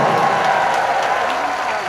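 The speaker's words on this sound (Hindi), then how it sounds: "उनके लिए एक बार जोरदार तालियां हो जाए।" Crowd applause at a press conference, a steady dense wash of clapping that holds at an even, fairly loud level throughout with no voices standing out.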